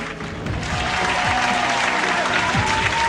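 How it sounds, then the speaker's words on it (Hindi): Loud, continuous audience applause fills a hall at an Independence Day stage cultural program, a dense steady wash of many hands clapping with no gaps. "जोरदार तालियों के साथ हम स्वागत करते हैं अपने बीच प्रियंका राय जी का।"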